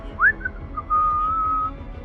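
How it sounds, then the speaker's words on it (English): A person whistles a short melodic tune, starting with a quick rising note, then a brief pause and a long sustained tone; close and clear over faint background noise. "he starts whistling as he's walking down the alley between two buildings"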